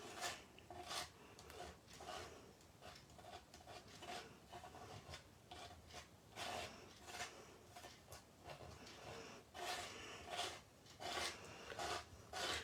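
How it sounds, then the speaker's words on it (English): A tool scrapes a dark, icing-like paste across a stencil laid on card, a steady run of close, rasping strokes repeating back and forth without pause and without talk. "I'm just going to scrape it over"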